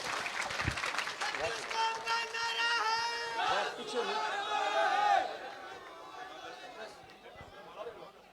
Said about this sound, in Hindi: ताली बजाओ श्रीराम बिजारिया के लिए।